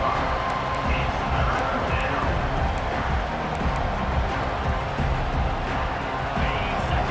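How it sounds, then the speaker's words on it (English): A college football stadium crowd roars steadily as the defense faces third down in a video game, a dense, loud wash of cheering and noise that holds throughout with no clear breaks. "Decibels rising as the crowd gets behind this defense on third down."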